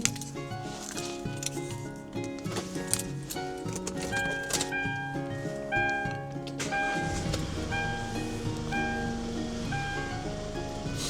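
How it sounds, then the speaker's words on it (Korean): A used Hyundai Grand Starex camper van with 60,000 km on it starts up. Tonal electronic chimes play first, then the engine catches and settles into a steady, muffled idle. "시동을 한번 걸어볼게요"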